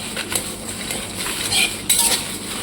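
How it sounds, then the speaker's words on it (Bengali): Whole spices, mace, nutmeg, star anise and cinnamon, dry roasted in a pan, heard as close clinking and scraping of a metal utensil against the pan with a light rattling of spices. "তো আগে এটাকে আমি ড্রাই রোস্ট করে নিচ্ছি"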